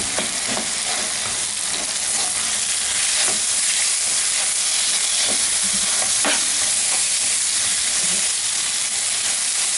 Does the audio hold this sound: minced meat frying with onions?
yes